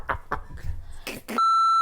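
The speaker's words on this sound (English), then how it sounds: "I got to beep you out on your own show." A censor bleep covers a word on a talk show: a few short chopped voice fragments, then a loud, steady electronic tone cuts in and holds to the end.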